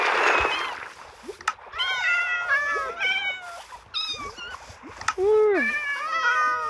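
A cartoonish cat in a video game meows repeatedly in high, sliding calls, loud and up front, with some overlapping caterwaul-like cries.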